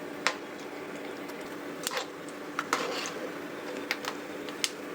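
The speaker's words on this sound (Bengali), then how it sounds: "যখন ফাটবে দেখবেন ফটফট করে আওয়াজ হবে" Peanuts frying in a wok for homemade chanachur, with scattered sharp pops and cracks at irregular intervals over a soft, steady frying hiss; no one speaks.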